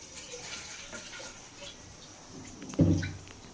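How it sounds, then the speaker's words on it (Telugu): Water is tipped into a pot of hotel-style drumstick sambar, a brief close splash and gurgle arriving abruptly near the end after a quiet stretch of faint kitchen hum. "ఇప్పుడైతే వాటర్ వేసుకుంటాను."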